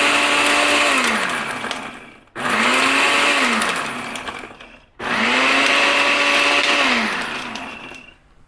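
Loud blender whirring through three long runs separated by brief pauses, each starting with a falling pitch as it grinds wood cypress mulch and coconut husk into fine dust, with no talk.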